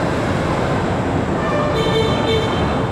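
An airport metro train rumbles along at speed with a loud, continuous roar and wheel noise, plus faint high squeals from the rails, heard from inside the carriage without talking.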